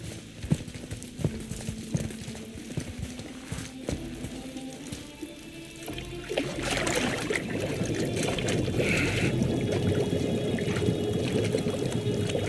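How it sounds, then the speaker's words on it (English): In the God of War video game, water churns and splashes as a head is held underwater, starting as sparse clicks and drips, then swelling into a louder, sustained splashing and bubbling wash in the second half. "Now, hold his head under the water and don't let go."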